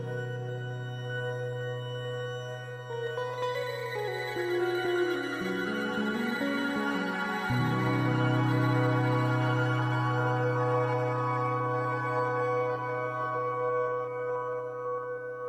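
Electric guitar run through a Sonicware Texture Lab in granular effects mode, producing a dense, sustained wash of layered tones that shifts and swells steadily throughout, with no voices.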